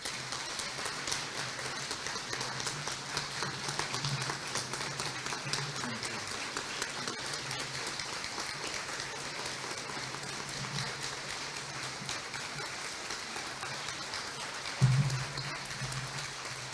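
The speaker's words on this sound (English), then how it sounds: "How about another big round of applause for Father Gary Goyeau?" A parish audience at a church building anniversary celebration claps in a steady, moderately loud wash of applause that continues throughout, with a brief louder knock near the end.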